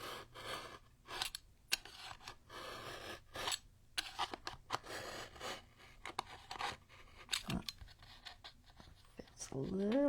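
A blade slicing through glued wallpaper over wood produces repeated short scraping, rasping cuts in uneven bursts, fairly quiet and close, with a soft voice speaking briefly near the end.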